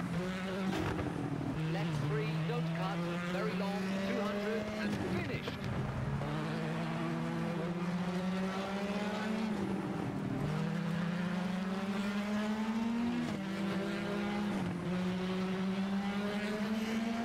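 A rally car engine in the game WRC 7 drones steadily, its pitch rising and dropping repeatedly as gears shift, loud and continuous throughout.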